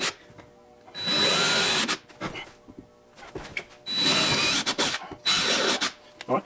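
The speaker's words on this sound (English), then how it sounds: "so we're going to drill them real quick" A power drill whirs in three loud, close bursts of about a second each while drilling holes for bass boat seats, separated by quieter pauses with light handling noises.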